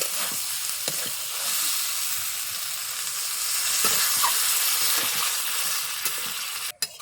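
Pumpkin and snails frying in a pan hiss in a steady, dense sizzle after water is poured in, with occasional stirring clicks, close and continuous, ending in a brief clatter.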